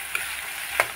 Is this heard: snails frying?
yes